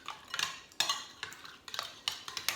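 Satay dressing mixed in a bowl with a utensil, quick rhythmic clinks and scrapes against the bowl in short bursts, close and fairly quiet, no voices.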